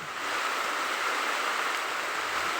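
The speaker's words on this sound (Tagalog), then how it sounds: "Kusog kayo ang ulan." Heavy rain pours down in a steady, dense hiss during flooding, continuous and close with no voices over it.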